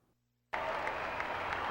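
A crowd of 2,400 faithful breaks into sudden applause to welcome the Pope, a dense sustained wash of clapping that starts abruptly after a quiet moment and stays loud.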